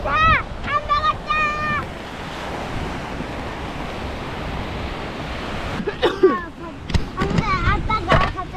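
Surf rolls and crashes steadily at a beach, with wind buffeting the microphone and people talking over the waves at the start and end.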